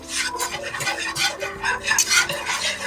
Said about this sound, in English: I'm just going to stir this around and let this kind of become smooth